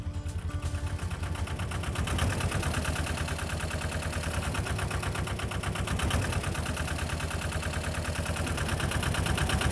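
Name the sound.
canal boat engine running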